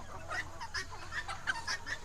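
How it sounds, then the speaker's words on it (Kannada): Guinea fowl on a farm calling in a rapid series of harsh, repeated chattering cries, fairly close and loud over a low steady background. "ಅದು ಗಿಣಿ ಕೋಳಿ."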